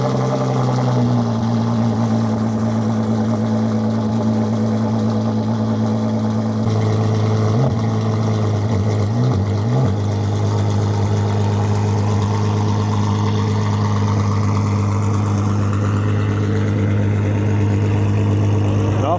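A large hypercar engine idles with a deep, steady hum, giving a couple of short revs partway through before settling back into a loud, even drone.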